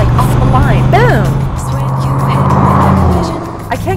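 A 1973 Corvette C3 launches hard off the line, its engine roaring up through rising revs with a sweeping tonal pitch climb, loud and close, then settling into a steady drone as it pulls away.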